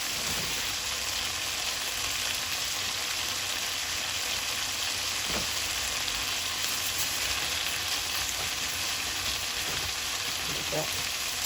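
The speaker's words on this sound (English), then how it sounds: "I'm going to saute the rest of this onion while that meat is getting done." Onion sautéing alongside beef in a pan for tacos, a loud, dense, unbroken sizzle with occasional faint pops and taps, heard up close for several seconds.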